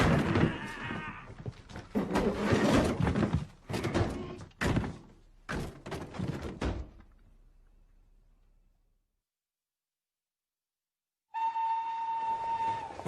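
At a railway station in a film, clattering train noise with heavy thunks and rumbles fills the first seconds and fades into silence, then a steady tonal whistle-like hum starts near the end.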